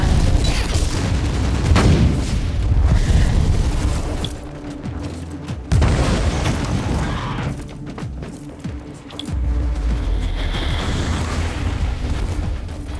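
Grenade blast in the game Warhammer 40,000: Inquisitor – Martyr, heavy booming detonations over a dense, continuous roar of combat noise with loud impacts and rumbling.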